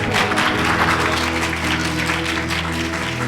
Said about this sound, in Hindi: आइए उसके जलाल के लिए जोरदार ताली।